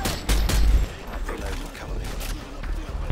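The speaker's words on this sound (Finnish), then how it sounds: "mä ammun sitä grenade launcherilla" A grenade launcher firing in the video game Modern Warfare 2 Spec Ops, heavy booming shots and explosions with rumbling blasts through a loud, busy game mix, while people talk over the action.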